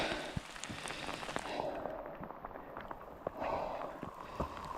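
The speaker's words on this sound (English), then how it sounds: "the rains are properly coming in" Rain falls steadily during a mountain drive in Turkey, a continuous, fairly faint patter with scattered drop hits and no speech.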